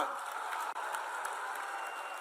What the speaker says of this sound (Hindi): तीनों के लिए जोरदार ताली बजाओ जरा